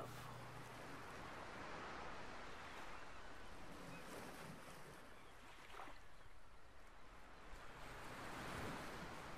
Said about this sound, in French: La danse des vagues qui s'en va et revient